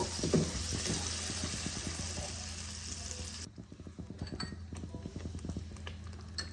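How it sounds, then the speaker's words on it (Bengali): Fish masala being sautéed in a kadhai, a steady sizzle and frying hiss with scraping stirs; the sizzle drops sharply partway through, leaving quieter bubbling and rhythmic spatula strokes. "ভালো করে কষিয়ে নেব।"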